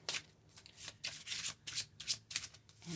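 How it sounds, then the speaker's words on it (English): A deck of tarot cards is riffled and shuffled by hand in a series of about ten quick, crisp bursts, close and fairly quiet, with short pauses between each burst and no talking. "we're just going to get a couple cards out here"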